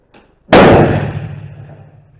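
A Sako M28 rifle fires a single loud, sharp shot outdoors, the crack decaying into a long echoing rumble, preceded by a faint click.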